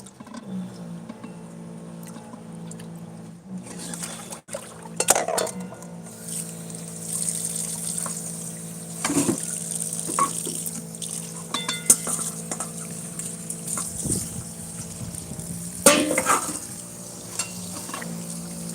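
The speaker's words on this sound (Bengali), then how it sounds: "ভালো করে দুবার জল চেঞ্জ করে ধুয়ে নিচ্ছি, কারণ প্রচুর বালি থাকে শাকের মধ্যে।" Leafy greens are swished and stirred in water in a vessel, with trickling, splashing and occasional clanks of the pot coming close and moderately loud, without speech.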